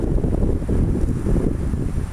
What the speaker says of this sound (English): It's a bit windy, and so my voice might be a little hard to hear